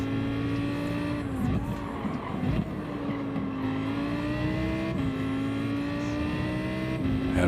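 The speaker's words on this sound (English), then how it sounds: "Quick upshift to fourth. Rev the living piss out of it." A race car in the Gran Turismo 7 video game revs hard and continuously, its engine pitch climbing and dropping with quick gear shifts, loud and up close with a hint of tire noise and no talking.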